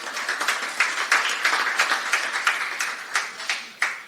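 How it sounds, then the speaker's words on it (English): An arena audience at a minor-league ice hockey game, Mayhem vs. Pensacola Ice Flyers, claps for two guests, giving a steady, moderately loud patter of hand claps with sharper individual claps standing out for about four seconds. "If you would, please give a round of applause for these two."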